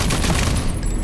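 Rapid gunfire in the video game Rage 2 comes as a loud, dense burst of overlapping shots across a brief moment.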